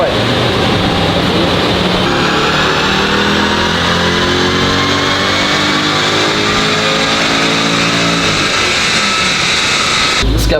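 An Audi S6 engine revs hard on a dynamometer in second gear, holding a high, climbing whine for several seconds, then drops off abruptly near the end.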